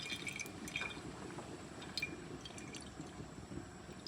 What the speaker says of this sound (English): these will all be filled plus more with juniper berry gin. Look at that, just trickling out.